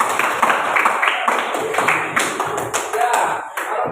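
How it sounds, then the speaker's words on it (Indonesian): A classroom of students clapping together in applause, a busy run of overlapping hand claps close by, with some voices mixed in. "Bagus, tepuk tangan."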